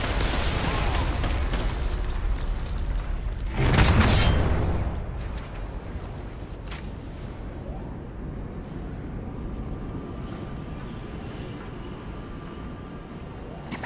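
A K.E.M. strike explosion in the Call of Duty Ghosts game bursts loudly around the four-second mark, then fades into a steady rumble of distant in-game battle noise.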